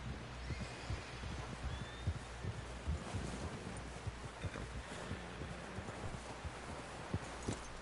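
Hooves clip-clop in Red Dead Redemption II, a quiet, uneven patter of horse steps over a low, windy background rumble, faint and continuous with no voices.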